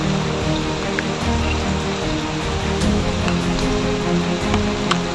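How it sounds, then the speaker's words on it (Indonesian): Steady rain falls at a forest camp, a dense, continuous hiss of drops pattering on surfaces, loud and close throughout with scattered sharper drips. "Hujan sudah turun Daniel."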